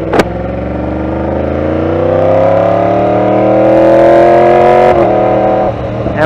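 A Yamaha R1S sport motorcycle, modified by Lee Kaufman, revs its engine while ridden, a loud, steady drone that climbs smoothly in pitch over several seconds before a brief shift-like dip and a short rise again.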